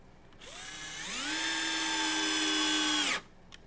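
A power drill drives screws while a CNC Stanton bench is assembled, with a single sustained whine that climbs in pitch as it spins up, holds steady for about two seconds, then stops abruptly.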